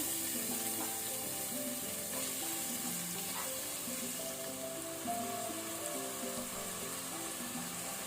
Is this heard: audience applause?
no